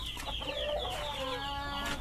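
A chicken clucks nearby in a short burst of rising and falling calls over faint background noise.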